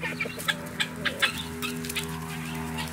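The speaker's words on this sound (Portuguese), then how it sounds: "o galo querendo, querendo beliscar minha mão aqui" A rooster on a small farm clucks in short, sharp bursts while trying to peck at a hand, close by, with a few irregular calls over a quiet background.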